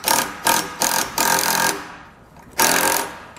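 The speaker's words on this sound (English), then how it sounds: "we are going to take a 15 millimeter socket and wrench to get these tightened down" Bolts on a Fulton snap-ring swivel marine jack tightened with a 15 millimeter socket and wrench, rapid ratcheting bursts in four quick runs then a pause and one more, close and loud.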